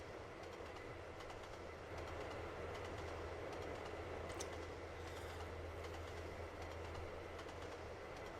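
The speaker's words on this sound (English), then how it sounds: "of the rare times we actually get to drive an electric train here in Trainz" Electric train in Trainz Simulator 2 on the Saalfeld County route, rolling steadily with a constant low motor hum and rail noise, a faint high squeal partway through, no talking.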